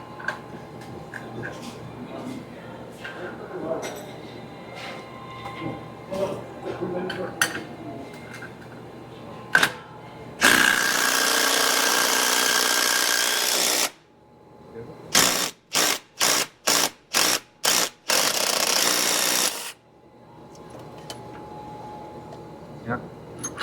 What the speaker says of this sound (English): We have compressed the spring, so going to start removing the nut soon.